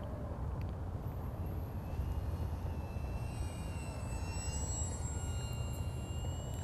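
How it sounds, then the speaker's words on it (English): An RC Focke-Wulf FW190 model airplane flies slowly at reduced throttle, its engine a steady, moderately distant hum with a gently shifting whine drifting in pitch as it passes. "Throttle back, show you the slow flight character here."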